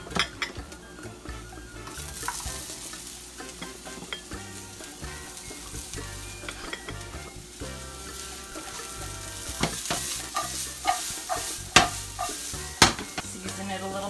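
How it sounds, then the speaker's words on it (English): Onions and peppers sizzle steadily in a pan for fajitas while a utensil scrapes and knocks against the metal with irregular clinks, the frying hiss continuous underneath; no voices. "These onions are looking nice and toasty. I think it's time to add some peppers."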